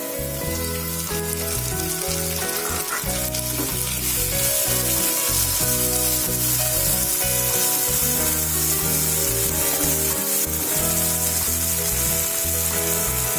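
Tomatoes hit a pan of frying onions for South Indian bread upma, giving a loud, steady sizzle and crackle that runs without a break, with no talking.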